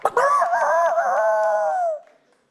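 A voice imitates a rooster's cock-a-doodle-doo, a single loud, close crow with a sharp start that holds for about two seconds before trailing off, with no other speech.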